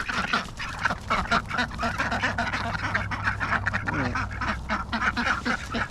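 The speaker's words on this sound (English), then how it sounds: "Quack attack." Several ducks quack loudly and repeatedly up close, a busy overlapping chorus of harsh calls with a rustling background.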